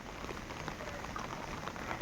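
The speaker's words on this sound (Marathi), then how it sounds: "पाऊस खूप पडतोय" Steady, dense rain pattering on a surface, a continuous close hiss of drops with no voices.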